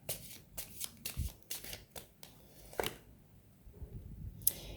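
Oracle cards in a deck are tapped and riffled, giving a run of quick, crisp papery flutters and soft knocks close by, then a brief lull and a final sharp snap.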